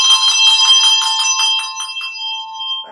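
A handbell ensemble rings loudly, many bright sustained tones struck together in repeated pulses for about two seconds, then letting the chord decay, with a soft lower bell sound at the very end.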